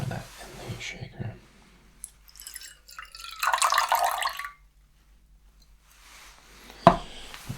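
Liquid pours into a cocktail shaker at a whiskey tasting, a soft splashing stream in the middle of the clip between quiet clicks, ending with a sharp tap.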